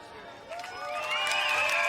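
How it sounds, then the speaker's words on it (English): A crowd at an extreme dodgeball match cheers and applauds for an injured player, a steady roar that swells louder over two seconds with shouts and whistle-like tones rising above it. "Nice round of applause from the crowd"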